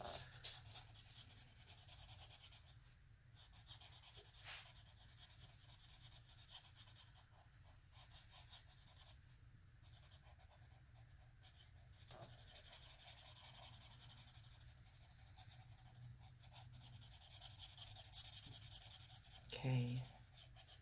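Chisel tip of a cheap Zongii dual alcohol marker scratching across paper to color a background, faint repeated rubbing strokes, with quiet breathing and low background noise.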